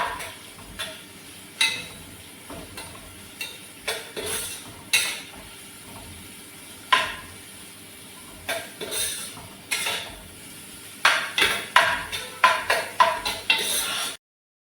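A utensil stirs and scrapes in a pan where green chillies, curry leaves and onion fry for a catering-style prawn curry with coconut milk, giving sharp metallic clinks in irregular bursts over a faint sizzle, close up and without talk.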